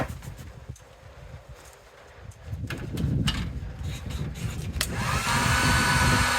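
Heat gun blowing hot air onto an outdoor LED light strip, a steady breathy whoosh that starts quiet and grows louder and fuller near the end, with a few soft handling knocks.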